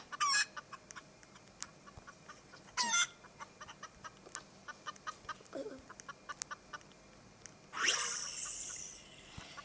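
Chicken clucking in a Roblox obby video game: scattered short clucks and squawks at moderate volume, ending with a sudden harsh noisy burst near the end.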